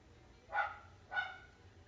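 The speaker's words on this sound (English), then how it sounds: "You hear that dog in the background?" Two faint dog barks about half a second apart, distant in the background of a quiet room, with no talking over them.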